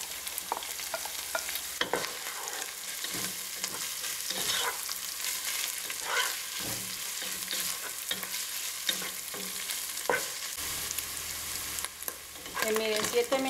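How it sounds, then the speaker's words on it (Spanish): Sausage pieces and onion frying in a pan give a steady, broad sizzle with scattered crackles and occasional utensil knocks, moderately loud and close throughout, with no talking. "Miren, 5 minutos de freír la cebolla, voy a agregar la salchicha"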